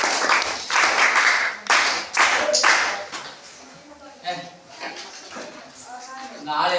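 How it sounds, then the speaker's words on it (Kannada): Students in a classroom clapping together during a maths lesson: a few bursts of loud, dense clapping that fade out into quieter scattered claps and faint voices. "ಚಪ್ಪಾಳೆ ಹೊಡೆಯೋನಿಗೆ"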